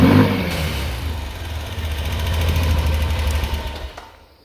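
A 2003 Honda Rincon 650 ATV with new carburetor jetting idles and runs steadily close by, a loud continuous engine drone with a slight rise in the middle before it fades out, no talk.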